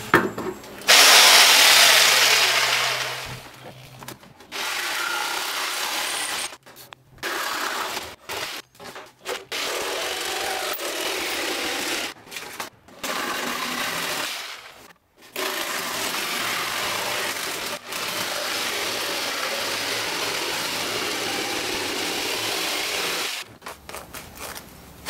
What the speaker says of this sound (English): I'm gonna go into the garage and cut this out with a scroll saw